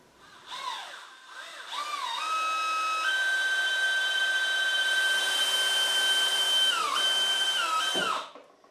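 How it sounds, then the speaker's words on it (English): A power drill bores pilot holes for screws into wood, spinning up quickly and holding a steady high whine for several seconds before winding down, close and alone without talk. "Okay, so that's that one pre-drilled."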